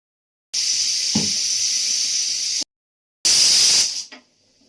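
A pressure cooker holding cauliflower with a little water and salt hisses steam in two loud, steady bursts close by, the second shorter and fading out at the end, with silence between.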